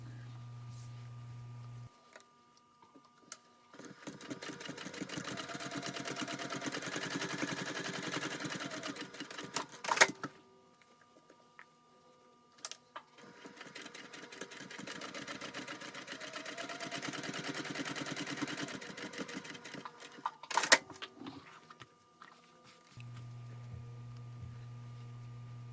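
A sewing machine bastes fabric layers together along the sides of a Cardiff Village bag, whirring in two long, steady runs separated by quiet pauses, fairly faint and close.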